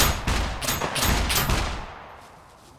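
Gunfire in the video game Scum: several rapid, loud shots in quick succession ring out close by, then trail off into a fading echo and near silence.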